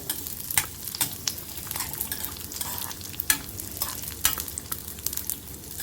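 Raisins frying and sizzling in a pan for Saudi-style chicken kabsa, a steady close crackle broken by sharp scraping knocks as they are stirred, with no voices.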